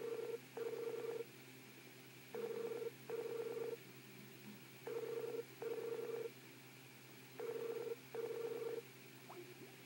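A telephone call being placed: bursts of touch-tone DTMF dialing beeps, then a repeating ringback tone in regular paired pulses. The sound is clear and steady, with no voices over it.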